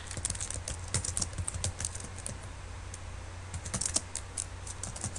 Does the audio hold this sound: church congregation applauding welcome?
no